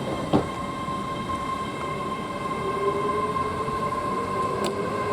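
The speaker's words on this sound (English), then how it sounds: "Here goes 800-022 from Bristol Temple Meads to London Paddington." A Class 800 passenger train passes Didcot Parkway at steady speed with a continuous rumble and high whine, plus a couple of faint clicks of the wheels.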